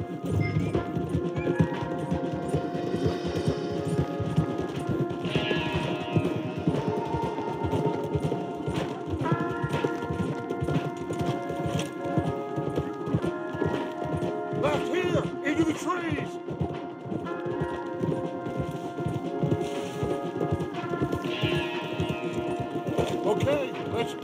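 Horses galloping hard in Red Dead Redemption 2, a steady rapid clip-clop of hooves throughout with occasional whinnies, set against a continuous musical score and faint voices.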